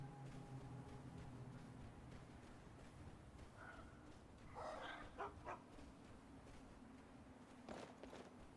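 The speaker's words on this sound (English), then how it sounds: "Oh, I heard a dog." Dog in the Skyrim video game barking, a few short barks and yips heard in the middle over a low steady game ambience.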